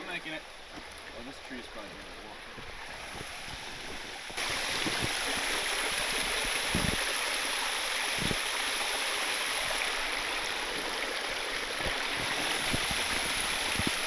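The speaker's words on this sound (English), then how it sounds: "There's a little waterfall." A small waterfall spills into a rocky mountain stream, a continuous rushing hiss that grows louder and fuller partway through as the source is approached, with occasional footstep thumps and no speech.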